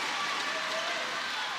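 Netball crowd at an ANZ Championship match between Pulse and Tactix applauding, a dense, loud, steady wash of clapping and cheering filling the arena.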